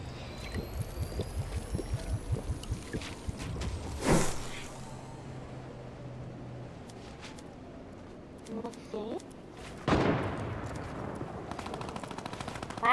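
Video game gunfire opens with rapid automatic bursts, and single loud shots crack out twice later on. Players chat over the shooting.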